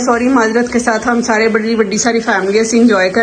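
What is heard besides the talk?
No distinct noise like a dog, phone or traffic.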